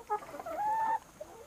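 A Kadaknath chicken on a poultry farm gives a short clucking call with a sustained crowing-like note, close and clear with little else around.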